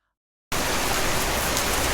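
Heavy rain starts abruptly after a moment of silence, becoming a dense, loud, steady hiss of pouring rainfall that continues without a break.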